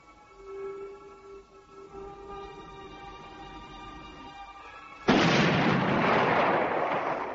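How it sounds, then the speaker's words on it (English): A low tonal hum holds for several seconds, then a single loud cannon blast erupts and rumbles on with a long, noisy roar. "Fire a signal cannon."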